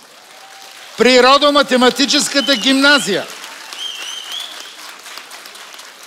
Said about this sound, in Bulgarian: Аплодисменти за отбор номер 1.